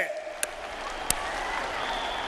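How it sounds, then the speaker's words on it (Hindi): A crowd at a women's self-help group conference in Karahal, Madhya Pradesh, gives sustained applause in honour of the cheetahs. The clapping is fairly steady, with two sharp bangs and a faint background tone. "इन चीतों के सम्मान में ताली बजाइए।"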